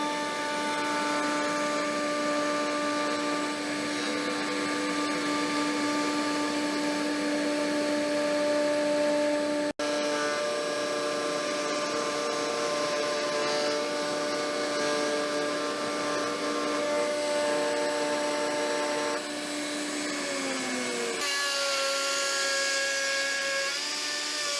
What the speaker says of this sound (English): I'm set up just to route my 2 channels here.